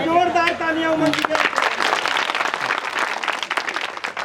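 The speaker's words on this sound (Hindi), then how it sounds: "एक बार जोरदार तालियां उमंग की।" A live audience at a Hindi kavi sammelan in Teliyani bursts into loud, sustained applause just after a voice finishes speaking, with dense clapping filling the rest of the moment.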